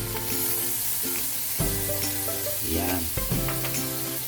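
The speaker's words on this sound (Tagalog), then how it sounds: "Ipakuloy lang po muna natin siya ng konti." Yellowfin fish steak simmering in soy sauce and calamansi with pepper in a pan, a steady bubbling sizzle with brief clinks and stirring, close up, one short spoken word over it.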